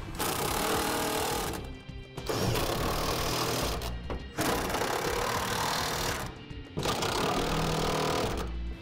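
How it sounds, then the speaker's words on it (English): A power tool tightens gooseneck trailer hitch hardware on a 2013 Ford F-350 Super Duty, loud rattling bursts of two to three seconds separated by brief pauses, heard up close. "we're going to start tightening down our hardware as per the instructions"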